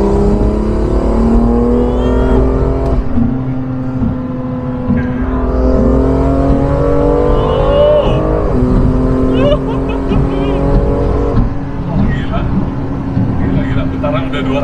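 A BMW M2 Competition rated at 636 hp pulls hard in fourth gear, its loud engine note rising steadily with road and wind roar while someone talks over it.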